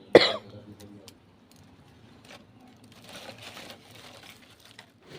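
A person coughs once sharply at the start, then the audio settles into quiet rustling and faint room noise, with a soft throat sound near the end.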